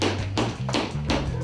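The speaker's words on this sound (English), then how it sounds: "Danny bangs a hole for the winch" Hammer blows banging a hole for a winch during construction of an Old West-style house, four sharp close strikes at an even pace over a low steady hum, with no voices.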